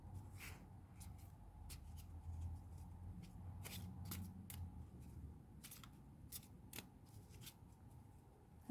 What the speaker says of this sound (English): My hands are tiny, but I still sometimes struggle to shuffle this deck.